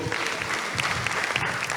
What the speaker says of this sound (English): Let's clap for Daniel and Jacob